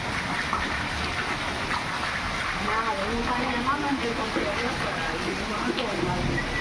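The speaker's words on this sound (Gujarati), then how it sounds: "જોરદાર વરસાદ થોડોક ધીમો પડ્યો હમણાં" Steady rain patters over a farm's onion field at an even, moderate level after a heavy downpour, with someone speaking over the wash of water.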